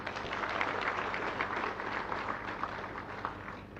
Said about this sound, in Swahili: naomba tumpigie tena makofi